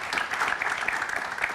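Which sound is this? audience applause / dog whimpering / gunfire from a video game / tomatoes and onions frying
audience applause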